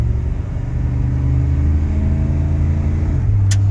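A 1993 Chevrolet C1500 pickup accelerates with a loud, close engine drone that rises and then drops and resettles as the transmission shifts gears.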